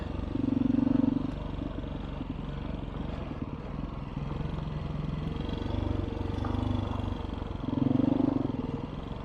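A 2021 Beta 500 dirt bike rides a moderate trail on Rampart Range in Colorado, its engine droning steadily up close with repeated throttle surges that swell and fade, along with rattling and clatter from the rough ground.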